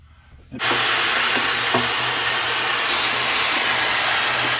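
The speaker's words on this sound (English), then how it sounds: "Let me get my little vacuum cleaner and clean up some of the mess." A small handheld vacuum cleaner switches on abruptly and runs with a steady, loud high-pitched whine and airy roar, cleaning up debris after drilling a hole in a Gibson Maestro guitar, with faint clicks and rattles as it picks up bits.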